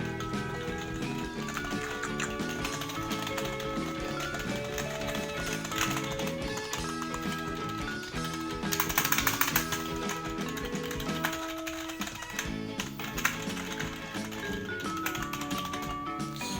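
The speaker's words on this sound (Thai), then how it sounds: "เราจะมาทดสอบการพิมพ์นะฮะว่าจะ พิมพ์ได้เสียงดังและเร็วขนาดไหนนะเรา" Rapid, continuous typing on a cheap rubber dome gaming keyboard, with soft muffled key presses in a steady patter and a few louder clacks.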